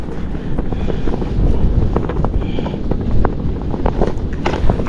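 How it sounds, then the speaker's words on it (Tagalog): A hat flaps and rattles in strong wind at sea, steady buffeting roar against the microphone with quick irregular snaps throughout. "maingay po yung ating sombrero,"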